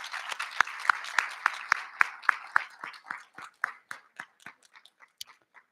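A small audience at a bursary awards ceremony claps in crisp, distinct strokes that start steady and gradually thin out into scattered final claps.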